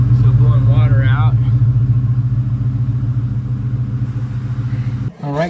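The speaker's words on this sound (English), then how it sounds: "The exhaust is sounding good." A 1997 Cobra's engine idles with a steady, deep exhaust rumble close by, continuous for about five seconds with a voice over it, then a brief dip near the end before the rumble resumes.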